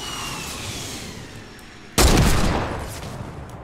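A rocket fired at a wooden wall in Fortnite explodes with a sudden loud broadband blast midway, its rumble decaying slowly over a steady background of game ambience.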